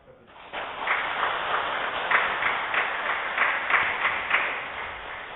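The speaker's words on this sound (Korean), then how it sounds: "다시 한번 박수 부탁드립니다" Applause from a church congregation during a Catholic Mass, a steady sustained clapping that swells quickly after a brief quiet start and holds evenly throughout.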